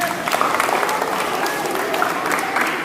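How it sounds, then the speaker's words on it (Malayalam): Applause from a school audience at a science question session, steady clapping across the whole stretch with some crowd murmur and faint voices mixed in. "ആ കൊടുകൈ താരക്കൊരു കൈയടി കൊടുക്ക്"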